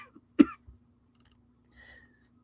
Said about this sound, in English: Constant coughing and the absurd necessity to stream